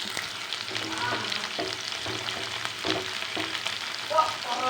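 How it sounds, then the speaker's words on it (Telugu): Sliced onions, turmeric and drumsticks fry in a pan for a drumstick tomato curry. A steady close sizzle runs throughout, with occasional stirring scrapes and crackles. "ఇక్కడ పసుపు ములక్కాయలు ఆనియన్స్ కొంచెం ఫ్రై అవుతున్నాయి కదా"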